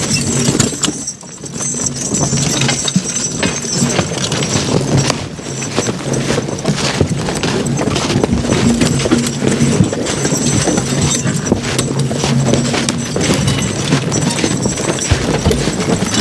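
Draft horses working a logging job in the woods, with steady hoof clip-clop and harness and chain jingle over continuous outdoor rumble and a faint engine drone.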